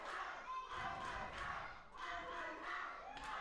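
A wrestling event crowd roars and cheers in swelling waves, loud and boisterous, with shouts rising and falling across the arena.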